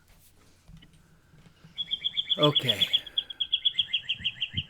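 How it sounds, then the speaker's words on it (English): Small birds chirp in a quick, regular run of bright repeated notes, fairly close and clear, beginning after a brief spoken word and low background sound. "we can hear the birds chirping along beautifully"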